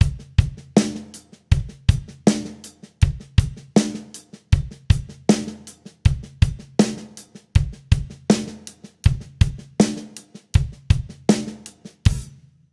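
A drum groove: kick drum on beat one, the and of one and the and of three, under a steady hi-hat with snare backbeats, looping evenly and close without talk.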